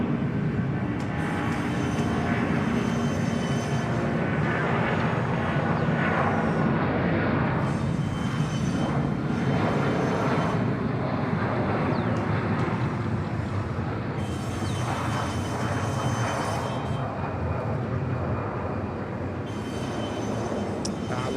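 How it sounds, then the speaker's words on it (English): Thai Airways Airbus A330 at Suvarnabhumi Airport, Bangkok, producing a steady, loud, continuous engine roar with broad rumble and hiss that holds throughout, no voices present. "Nice to see the A330s still in regular use with Thai Airways."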